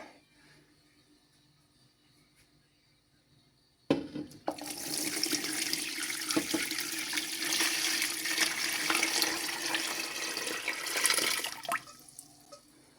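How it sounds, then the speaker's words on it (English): Cold tap water filling a canner packed with cold jars, starting after a quiet stretch with a sudden gush that turns into a strong, continuous splashing rush up close, then eases off at the end. "We're going to get the canner filled up with water now. So cold water, cold jars."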